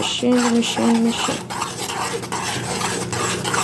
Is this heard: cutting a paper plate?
no